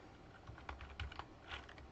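Quiet, irregular keystrokes on a computer keyboard, a short burst of separate taps at an uneven rhythm, faint and close, with no talking.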